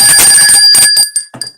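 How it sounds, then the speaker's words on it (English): A bell rings on a podcast, its bright sustained tone struck in a few quick strokes, loud and close, then fading with short decaying rings. "Ring the bell."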